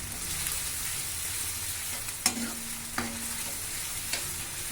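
Grated garlic frying in a pan while making kofta curry, a soft steady sizzle with a few sharp clinks of a spoon against the pan, quiet and close, no talk.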